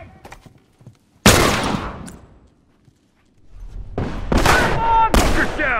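Rifle fire in The Last of Us video game: a loud sharp shot that rings out and decays, then a brief quiet, then two more booming reports close together, alone with no talk over them.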